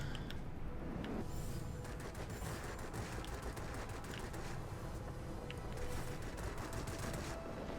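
Aircraft guns from an Antonov M in World of Warplanes, firing in a steady, continuous low rattle that sits fairly faint under a constant engine drone, with no voices.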